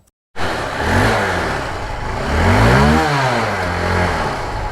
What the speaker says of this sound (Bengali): বাইকটা সাউন্ডটা খুবই ভালো